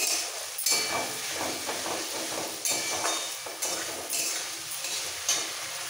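Rohu fish curry with potato, radish and ground green chili paste being sautéed in a pan, a steady close sizzle with intermittent stirring scrapes and surges of hissing steam.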